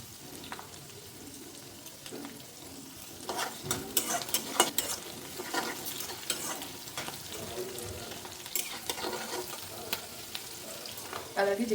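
Green chillies fry in hot oil in a kadai, a steady close sizzle running throughout with sharper crackles and spatters bursting in from about three seconds on, along with occasional stirring scrapes; no one speaks.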